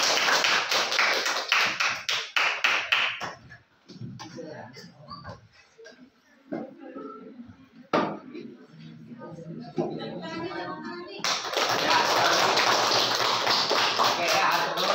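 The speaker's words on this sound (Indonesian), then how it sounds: "tepuk tangan" Students in a Sundanese-language class at a senior high school break into dense, fast hand clapping, which fades into quieter talk and scattered taps before a second loud burst of classroom applause swells up.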